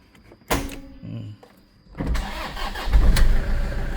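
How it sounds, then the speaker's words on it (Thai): A 2011 Toyota Fortuner's engine cranks and fires up near the microphone, settling into a steady idle. Some earlier clicks and handling sounds come before it, and no one speaks. "สิสตาร์ทเครื่องให้เบิ่งเด้อ"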